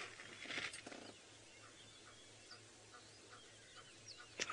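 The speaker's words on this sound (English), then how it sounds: "we're not hearing much outside of the normal sort of dawn bird chorus" Dawn bird chorus at a safari reserve at sunrise: scattered faint chirps and calls from birds at a distance over a low steady hum, with one brief louder burst of calls near the start.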